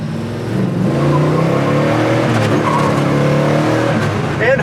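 A 1969 Chevelle SS accelerates hard, its engine building in a loud, close, sustained rising roar with a brief tire squeal, heard from inside the car with no talking.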